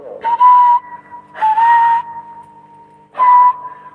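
Three loud whistle tones, each about half a second, come through a modified President Richard CB radio with a steady carrier hum between them.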